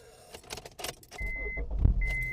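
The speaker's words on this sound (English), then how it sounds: "So let me just start the car." A car engine cranks and catches about halfway through, after a few clicks and rattles of handling, then settles into a steady low idle with a thin whine on top.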